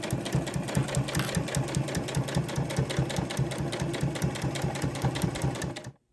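A sewing machine stitching a fabric bookmark hums at a steady, rapid, even rhythm close up for several seconds, then stops abruptly, with no talking.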